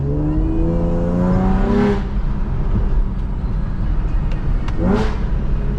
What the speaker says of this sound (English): I can downshift now.